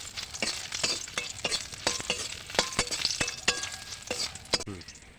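Whole spices and white cumin being stirred as they fry in hot oil for a homemade chalta (elephant apple) pickle, with a steady close sizzle broken by repeated sharp scrapes and knocks of the spoon against the pan.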